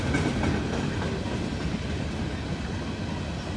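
A freight train hauled with a distributed power locomotive rolls past at McCord Park, a steady low rumble of wagons with faint clickety-clack, moderately loud and continuous throughout.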